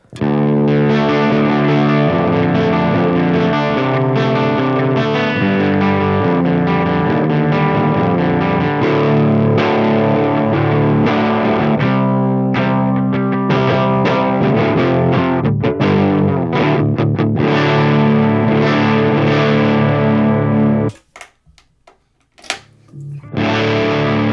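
Heavily distorted electric guitar played through Fractal and Helix amp models, with loud, dense riffing that runs continuously before cutting to a few sparse stabs near the end.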